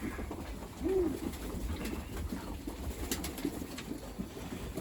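Pigeons in a breeding loft give a soft coo around the one-second mark, with faint further calls over a low steady background and no talk.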